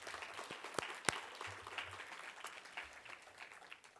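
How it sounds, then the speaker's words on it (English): Faint, distant applause from the audience at an agricultural series event, scattered claps with a few sharper ones near the start, under a low murmur. "if we can please give everybody a round of applause"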